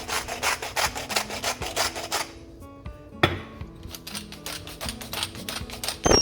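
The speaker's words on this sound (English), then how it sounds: "Lower the heat to medium and keep whisking until it thickens up." A whisk scrapes rhythmically against a skillet while stirring a milk and butter-flour sauce, quick repeated strokes with a brief pause partway through, over soft background music.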